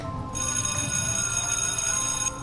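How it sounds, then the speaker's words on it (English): A steady electronic telephone ring sounds continuously, loud and near, with no voices, as a phone rings in a quiet room for a scary story. "Then the phone rang."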